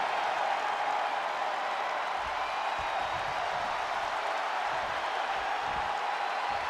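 A virtual arena crowd in WWE 2K20 roars and applauds during a wrestling match, a steady dense wash of cheering that holds without a break.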